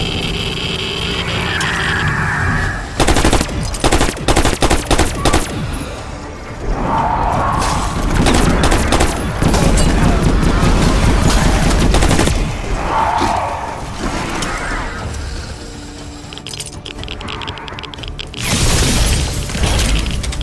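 Bursts of heavy gunfire and booming blasts from a wonder weapon in a video game, loud and close, broken by short lulls with a mechanical whir between volleys.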